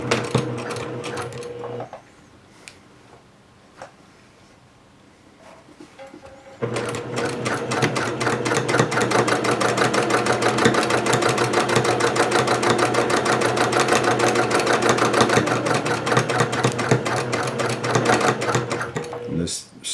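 A sewing machine stitches a pocket inside a bag, with brief buzzing bursts early on, a pause, then a long, loud, steady run of rapid mechanical stitching to the end, while a person talks over it.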